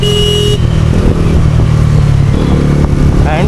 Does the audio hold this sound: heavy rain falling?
no